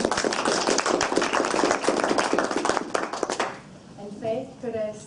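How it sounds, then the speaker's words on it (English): Short burst of audience applause welcoming speakers at a panel session, dense clapping for about three seconds before fading out, followed by a brief spoken voice. "I would like to ask everyone of you for me a short applause to welcome our speakers."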